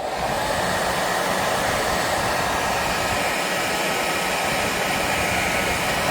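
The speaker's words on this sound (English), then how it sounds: "We're just going to heat it up with a heat gun." A heat gun blows steadily and evenly at close range, warming the glue on a Bose QC45 headphone hinge, with no other sound.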